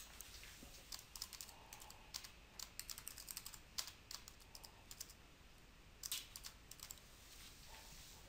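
Typing on a computer keyboard in an office setting, quick quiet clusters of key clicks in irregular bursts with short pauses, close and soft.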